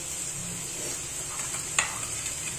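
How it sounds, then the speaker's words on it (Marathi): Masala for matki misal roasts in a pan on a gas stove, giving a soft, steady sizzle with a single light clink partway through. "दुसऱ्या गॅसवर इकडे हा याचा मसाला भाजून घेते"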